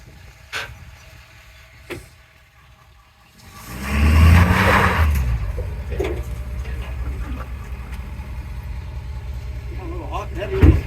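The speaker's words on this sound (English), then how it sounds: "A little hot and heavy on the throttle there." A shop vehicle's engine revs hard under heavy throttle, rising into a loud roaring surge at about 4 seconds that holds and slowly tapers, following quieter mechanical clicks and knocks.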